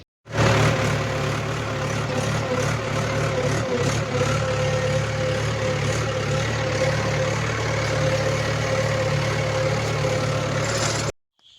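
Tractor engine idling on a farm field, a steady low rumbling drone with an even mechanical hum that runs unbroken and close for about ten seconds before cutting off.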